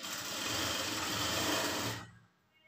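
A sewing machine stitches a blouse seam in a steady close whir for about two seconds, then stops abruptly, leaving near silence.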